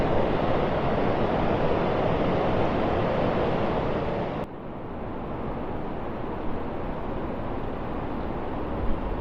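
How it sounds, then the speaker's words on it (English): The fast-flowing River Derwent running high in Derby's River Gardens, a steady, loud broadband rush of churning water that dips slightly partway through, with no voices. "here the River Derwent, the fast flowing River Derwent, is a hell of a lot higher than it usually is"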